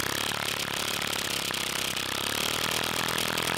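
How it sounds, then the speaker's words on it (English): Homemade compressed air engine with a standard crankshaft mechanism and a hand-cut piston running steadily, giving a fast, even chuffing and rattling with no speech. "So, I built this scrappy compressed air engine."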